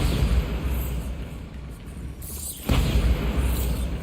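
A Bombarda spell explosion in the Hogwarts Legacy game, a low rumbling boom with a sharp burst partway through, followed by continued booming rumble.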